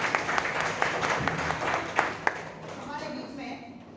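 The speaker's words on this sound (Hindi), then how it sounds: "एक बार जोरदार तालियां रवि सर" Audience applause at a New Year program, a burst of clapping that fades out within a few seconds, with some talk mixed in.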